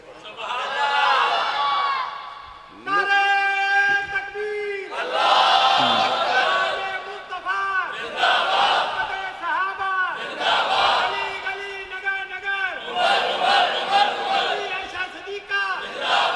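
A large crowd chants slogans in unison in repeated bursts, loud massed voices rising and pausing in a call-and-response rhythm, with cheering between the waves.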